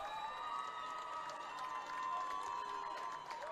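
Fans in the stands at a 2A boys soccer championship between Rowland Hall and American Heritage cheer and shout, a steady crowd roar heard at a distance.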